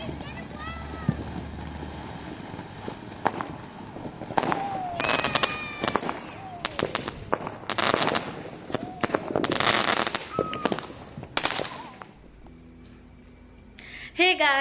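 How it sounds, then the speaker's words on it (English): Fireworks at a July 4th evening celebration crack and pop in scattered bursts, some with whistling trails, loud against a windy outdoor background while people talk nearby. "in the evening we are enjoying the fireworks"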